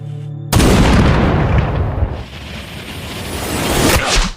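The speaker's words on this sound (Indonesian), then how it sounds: "Tiba-tiba Thomas pun melepaskan tembakannya" A sniper's gunshot in a yakuza action film, a sudden loud boom that follows a brief quiet moment, then a long rumbling tail and a whooshing swell near the end.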